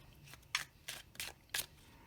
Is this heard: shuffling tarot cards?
yes